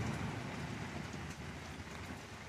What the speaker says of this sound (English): Listen to that rain, doesn't it?